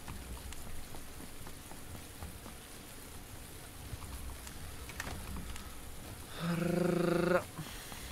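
Steady rain patters continuously at a low level, with a brief tonal hum rising near the end before fading back to the rain.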